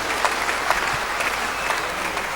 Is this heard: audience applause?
yes